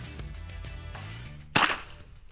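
A single sharp, short crack of a .22 caliber rifle shot at a target range, fairly close, rising out of a quiet, low background hum.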